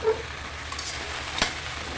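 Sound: okra frying in an old frying pan

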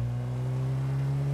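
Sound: car engine accelerating in GTA V video game

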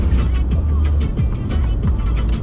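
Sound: car driving on a road

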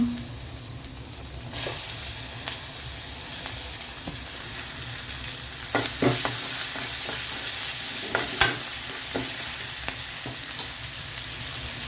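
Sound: ginger and green chili frying in pan

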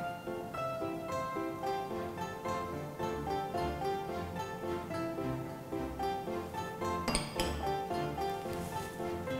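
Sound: mixing strawberry shortcake cookie dough with a spatula

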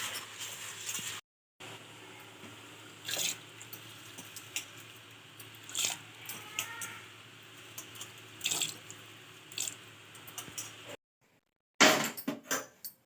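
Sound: washing urad dal in water

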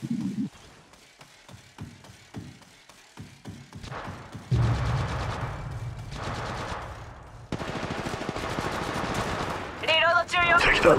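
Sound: gunfire in the video game Apex Legends Mobile

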